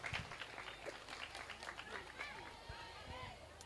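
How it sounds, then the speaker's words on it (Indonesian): Women at a Ramadan religious gathering in a crowded hall clap for a boy named Gibran, a dense burst of applause with crowd chatter and voices mixed in. "Tepuk tangan dulu untuk Gibran"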